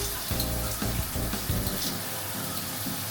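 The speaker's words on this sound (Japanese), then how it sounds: "オーバーヘッドシャワーも確認していきます。" An overhead shower running at full flow in a hotel bathroom at The Gate Hotel Yokohama: a loud, continuous rush of spraying water that holds steady throughout, with no talking.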